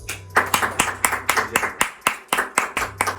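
Clapping for a shy child singer who has just performed a song on camera, a dozen or so distinct, evenly paced hand claps from a small group, close and fairly loud, with a low hum underneath.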